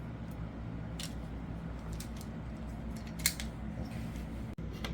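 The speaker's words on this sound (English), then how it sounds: "this is kind of like a PVC pipe cutter, and we have to trim another 1/4 inch off. So we just ratchet down." A ratcheting PVC pipe cutter trims conduit while installing a low-profile ceiling fan: a steady low hum underlies a few sharp, brief clicks and snips, with one louder crack near the end.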